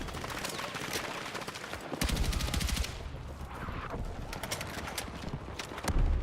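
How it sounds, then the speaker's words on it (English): Battlefield 6 mortar fire rings out in loud repeated blasts and thumps, a heavy burst near the two-second mark and another near the end, amid continuous battlefield gunfire and noise. "I believe these are our mortars"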